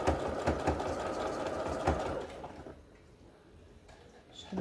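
A sewing machine stitching a French seam on a cushion cover runs in quick rattling bursts, then stops and leaves a quieter stretch. A voice is faintly present.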